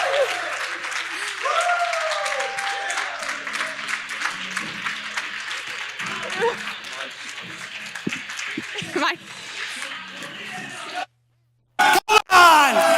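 A keynote audience at the Rise & Record 2022 event claps steadily, a dense wash of applause with cheers and shouts mixed in, while a voice talks loudly over it before a sudden cut and brief bursts at the end.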